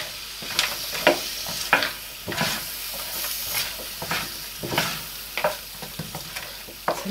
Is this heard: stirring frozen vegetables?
yes